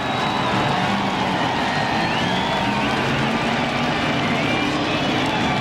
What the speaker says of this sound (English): And listen to the crowd. Just listen to the crowd